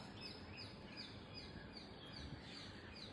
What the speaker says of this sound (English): Can hear the chirping birds behind,